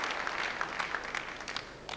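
Faint, distant applause from spectators at a 1985 indoor bowls match, a soft steady patter of clapping lasting a couple of seconds.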